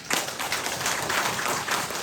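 A church congregation claps together during a Saturday prayer meeting, a brief burst of dense, steady applause filling the room.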